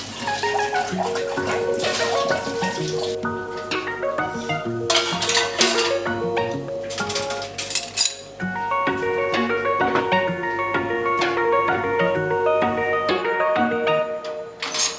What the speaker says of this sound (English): Yep, wash those dishes.